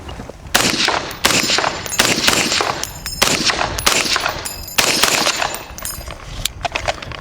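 FightLight MCR belt-fed rifle fired outdoors in semi-automatic mode, a series of loud, sharp, close gunshots at a fairly steady rhythm of about one per second, each with a short echoing tail, no talking.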